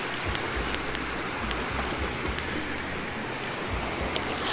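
Big sea waves crash and surge at a Camiguin beach, a constant loud roar of surf with low rumbling swells and no talk.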